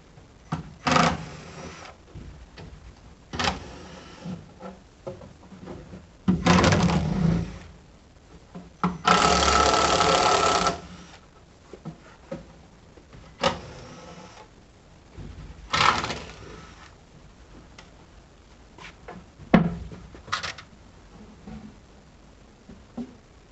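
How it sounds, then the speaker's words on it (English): Drawer slides being worked loose and pulled from a Milwaukee 52-inch high capacity steel work bench, giving a series of separate clanks, scrapes and one longer grinding slide, loud and close with quiet gaps between. "These drawer slides are fairly easy to take out"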